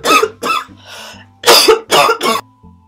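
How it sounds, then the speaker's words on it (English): Several loud, harsh coughs up close, in two bursts separated by a short pause, with a soft throat-clearing sound between them. "Now I'm coughing"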